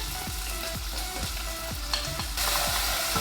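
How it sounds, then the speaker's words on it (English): Onions with garlic and ginger paste frying in oil in a pan for a British Indian restaurant chicken tikka masala, a steady close sizzle with regular stirring scrapes roughly every half second, no talk. "Now to that, we're going to go straight in with the onions and also the garlic and ginger paste."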